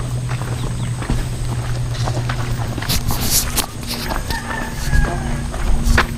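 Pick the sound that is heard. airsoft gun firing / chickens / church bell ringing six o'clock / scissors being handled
chickens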